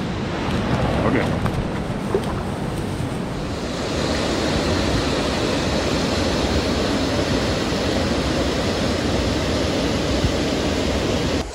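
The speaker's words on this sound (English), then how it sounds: "Kind of sounds like a waterfall." A waterfall on a wild northern river roars as a steady, dense broadband rush, heard close and continuous, with some brief handling noise at the start.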